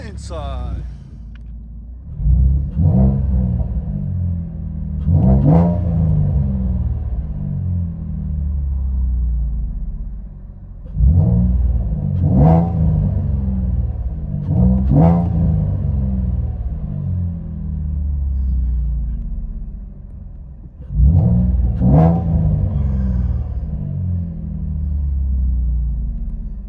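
Inside a 2014 Chevy Camaro RS 3.6L V6 with a SPEC-D Tuning cat-back exhaust, a deep exhaust drone rumbles steadily, swelling in four repeated rev-ups with brief dips between them.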